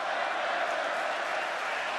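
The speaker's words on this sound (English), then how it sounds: "Fans trying to cheer the Undertaker." A wrestling arena crowd roars steadily in a dense, continuous wash of cheering for the Undertaker during his match with Roman Reigns, with no breaks or individual shouts standing out.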